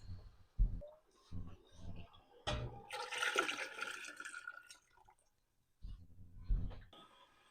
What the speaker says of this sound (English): I do need to add hot water to this.